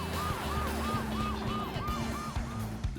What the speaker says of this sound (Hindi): लुइसा ने स्ट्रेचर लाने में मदद की और एम्बुलेंस बेबी को लेकर जल्दी से क्लिनिक गई